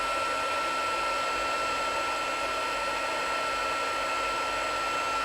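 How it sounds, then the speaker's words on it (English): A heat gun blows steadily over embossing powder on a handmade card with flowers and a sentiment, giving a constant, loud, close-up whirring hiss that runs unbroken throughout. "Just move the heat gun across."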